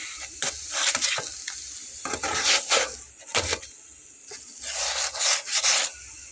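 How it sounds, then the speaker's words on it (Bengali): A potato-stuffed paratha made without onion, garlic or green chilli fries in a pan while being pressed down, giving close, repeated bursts of sizzling mixed with scraping rubs against the pan, with brief quieter gaps between presses. "তারপরে আমি একটু চেপে চেপে ভেজে নেব।"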